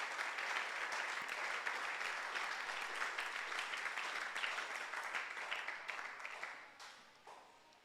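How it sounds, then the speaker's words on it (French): A church congregation claps for the Lord in sustained, dense applause, many hands at once filling the room, holding steady before tapering off near the end. "Can you clap for the Lord?"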